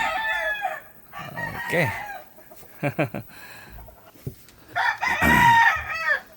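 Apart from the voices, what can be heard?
chicken rooster crowing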